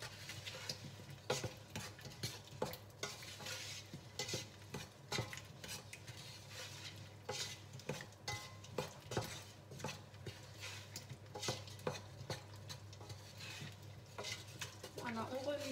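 A spoon stirs pear compote with vanilla sugar and water in a pot, scraping and clinking steadily against the pan up close, with a soft simmering hiss underneath throughout.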